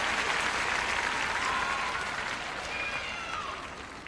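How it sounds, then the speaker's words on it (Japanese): An arena crowd at the 2002 World Figure Skating Championships men's short program cheers and applauds loudly, a dense, sustained roar of clapping that fades slightly toward the end. "大きな歓声がこの演技部に轟きました。"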